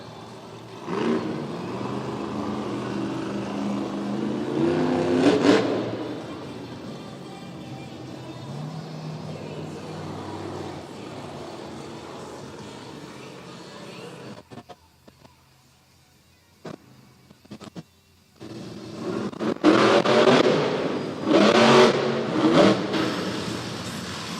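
A monster truck engine roars during a Monster Jam freestyle run in Edmonton. Loud revving bursts rise early and again near the end, with a quieter lull between them, and an announcer's voice sounds faintly through parts of it.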